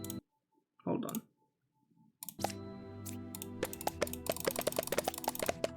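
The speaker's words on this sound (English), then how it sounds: "I just like clicking." A computer mouse clicks while playing the roguelike mafia game Demon Bluff: a few isolated clicks, then a run of quick, bright clicks over chiming game sound effects, close and clear.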